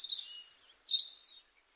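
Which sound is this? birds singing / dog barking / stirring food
birds singing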